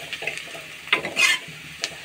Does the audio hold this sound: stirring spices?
yes